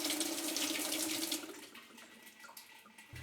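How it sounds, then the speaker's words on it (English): Cold water rushes into a Whirlpool washing machine during a fill check, a steady, close hiss of flowing water that fades to a quieter trickle partway through before a low thump at the end. "If the washer takes in cold water, then you know that cycle is okay."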